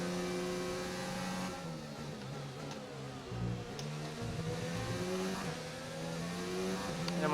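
An F1 race car engine in the game F1 2019 drones and shifts pitch steadily, revving up and down through gear changes at a moderate level with no talk over it.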